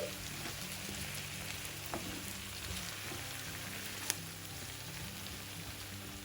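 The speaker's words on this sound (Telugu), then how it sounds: "ఉల్లిపాయ వేగుతున్నప్పుడు 2 మీడియం సైజ్ బంగాళదుంపల్ని ఇలా ముక్కలుగా కోసుకుని వేసుకోండి" Two medium potatoes cut into pieces fry with onions in a pan, a steady dense sizzle like rain running throughout, with a couple of faint clicks from the pan, close and even.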